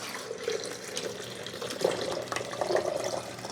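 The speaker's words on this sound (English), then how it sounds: "Then we simply dump the water and the vinegar right here." Water and vinegar splash steadily as they are poured into the reservoir of a Braun KF187 12-cup coffee maker during descaling, a continuous close pour with small surges.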